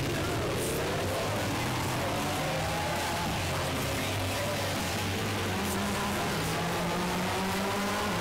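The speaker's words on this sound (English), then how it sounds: "So coming up over this crest, building up speed. It's a nice fast circuit" A race car in Gran Turismo 6 speeds around the Willow Springs circuit, engine loud and constant as it builds speed, with rising and falling revs through gear changes.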